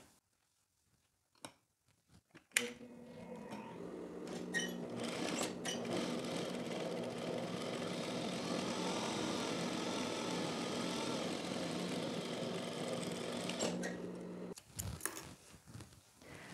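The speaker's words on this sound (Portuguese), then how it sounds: "agora nós vamos fazer uma segunda costura aqui na máquina reta, bem próximo aos pontos do overlock" After a few handling knocks, a straight-stitch sewing machine runs steadily for about twelve seconds, sewing a second seam close to the overlock stitching on a teddy jacket. It whirs close and loud, then stops amid fabric rustling.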